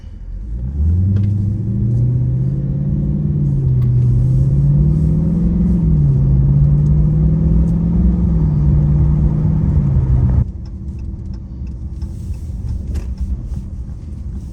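Dodge Charger engine rumbling while driving, a loud deep drone that rises and holds steady for about ten seconds, then drops to a quieter idle-like rumble.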